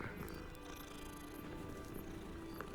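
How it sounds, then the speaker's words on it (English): A cat in the Hogwarts Legacy video game purrs steadily and softly for a few seconds, a continuous low rumble beneath ambient game sound. "That's a different cat."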